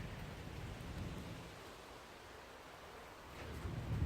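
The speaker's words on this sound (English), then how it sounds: "it's actually started to rain" Rain falling outside on a dark evening: a steady, fairly faint wash of dense drops that holds evenly throughout and swells slightly near the end, with no one speaking.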